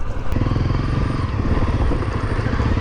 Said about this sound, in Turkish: Aa, arkamızda bir motor çift var.